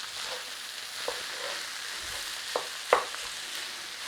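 Jalapeños and peppers cook in a pan, with a steady close sizzle and a few soft knocks as they are stirred through.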